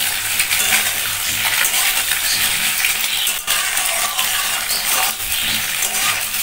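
Eggs frying in a pan for egg biryani give a steady, bright sizzle throughout, with occasional scraping and clinks of a utensil stirring against the pan, at close range and with no talking.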